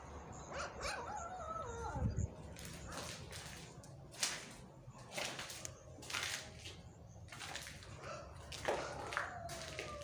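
A puppy whimpers and yips faintly in a quiet room, with thin rising and falling cries mixed with scattered sharp clicks and cracks, and no talking.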